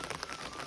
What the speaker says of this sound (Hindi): बाप रे, सुबह से बारिश 4 या 5 बजे से बारिश होने में लगी है